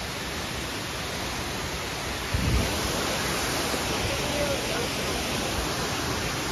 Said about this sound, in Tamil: ஸோ செம்மையாக இருக்குது அருவி.